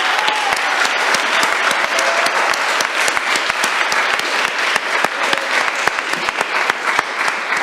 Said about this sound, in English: Kids, clap it up for your parents.